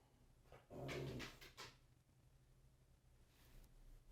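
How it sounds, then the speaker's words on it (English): A dog whimpers and pants close by in a few short bursts, quiet overall, with a faint hum underneath. "that's the dog."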